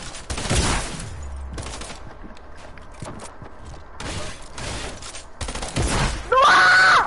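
Gunfire from a shotgun in the Mortal Kombat video game, several loud blasts with clanking, creaking game sounds between them and a sharp burst near the end.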